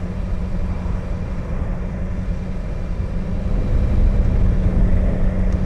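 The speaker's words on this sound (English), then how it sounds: "it's a pretty highly strung engine, to be honest. 1000cc engine revving to" The 1000cc engine of a BMW S1000XR motorcycle runs with a loud, deep, throbbing drone that swells a little toward the end as the revs rise, with no talk over it.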